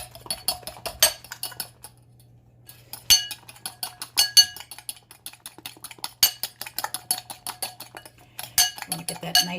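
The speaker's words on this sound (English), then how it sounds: "So now we're just going to mix this up." A utensil mixes an egg mixture with everything bagel seasoning in a bowl, making close, irregular clinks and taps against the bowl in quick bursts, with a short quiet pause early on.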